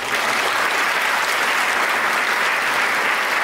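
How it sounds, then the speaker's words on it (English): An audience at a high school senior awards night breaks into dense, steady applause that stays loud and unbroken from start to finish. "Let's give everybody a round of applause."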